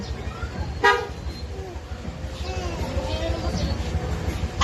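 A short car horn toot cuts through street traffic noise, with voices chatting nearby.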